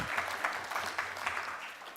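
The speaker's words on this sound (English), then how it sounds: "A round of applause for him," A round of applause from the audience at an international development cooperation conference, a steady diffuse patter of clapping for a panel speaker that holds for two seconds and then breaks off sharply at the end.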